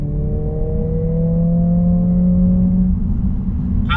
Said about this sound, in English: I've been running the rev counter up to the limiter several times already